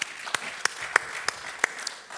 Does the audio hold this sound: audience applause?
yes